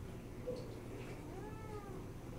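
A cat meows faintly once or twice, a short rising-falling cry over a low, steady background hum, distant and quiet.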